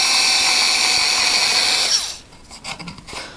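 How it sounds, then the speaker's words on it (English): A low-power drill fitted with a countersink bit bores into an oak floorboard, a steady high whirring grind for about two seconds before the motor stops, followed by a few light scraping and rubbing sounds. "So I've got a countersink bit on this low power"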